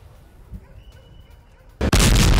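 After a few seconds of quiet, a sudden loud car bomb explosion erupts and keeps roaring at full force until the end.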